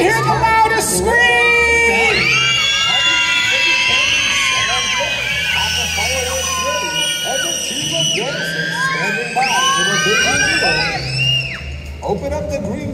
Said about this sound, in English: Let me hear the loudest scream.